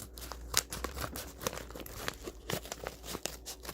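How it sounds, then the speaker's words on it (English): Mail packages being cut open and handled for an unboxing give close, quiet crinkling, tearing and snipping of plastic and paper in a busy, irregular run with no talking. "I'm gonna cut open the packages first"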